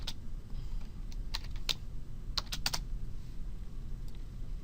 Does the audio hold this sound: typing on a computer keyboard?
yes